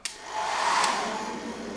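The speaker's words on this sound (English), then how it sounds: "Oh, we hear the fan kick on" The inverter cooling fan of a Jackery Explorer 500 portable power station whirs up after a click, kicking on under load, and holds a steady, airy hum at moderate volume for a couple of seconds.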